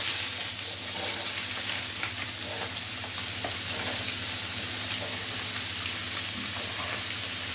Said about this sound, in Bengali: ফোড়ন দিয়েছিলাম ওইটা আমার ভাজা হয়ে গেছে, এখন শাপলা দিয়ে দিব।